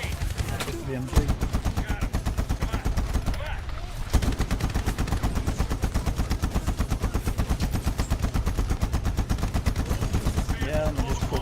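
Rapid sustained machine gun fire from an MG in the shooter Medal of Honor, loud and continuous with dense regular bursts across the whole span, briefly interrupted once, with no talking over it.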